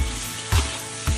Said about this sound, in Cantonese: 我哋而家將啲煎好嘅鵝倒落去